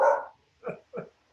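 A dog barks three times, starting with a longer, louder bark and followed by two shorter, evenly spaced barks at moderate distance. No one talks over the barks.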